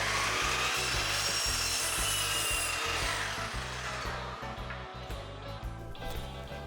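A hand saw cuts through wooden interior door trim in steady back-and-forth strokes, the rasping rhythm close and clear, slowing and fading slightly toward the end.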